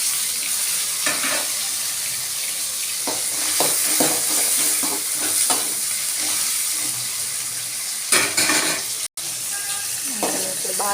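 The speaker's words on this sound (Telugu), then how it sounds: "ఇప్పుడు పచ్చిమిర్చి కరివేపాకు వేద్దాం" Green chillies and curry leaves frying in hot oil, a bright steady crackling sizzle heard up close, with spatula stirs and scrapes through the middle and a brief clatter near the end.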